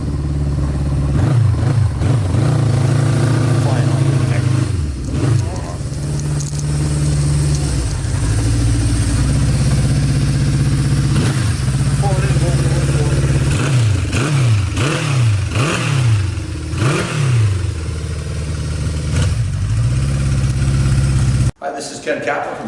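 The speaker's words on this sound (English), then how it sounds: "Silky smooth motor, nice exhaust note." A 1975 Honda CB550K motorcycle engine runs steadily close by, its exhaust note holding a smooth idle with several quick revs rising and falling, then cutting off abruptly near the end.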